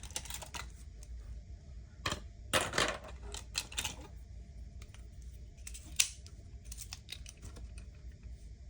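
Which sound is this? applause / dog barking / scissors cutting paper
scissors cutting paper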